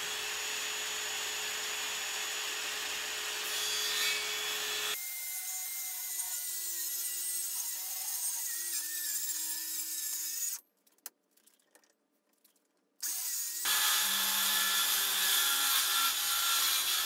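A saw cuts wood clamped in place and guided along a line for custom in-wall shelves. Steady close rasping strokes run for about five seconds, go quiet, then return near the end. Nobody speaks.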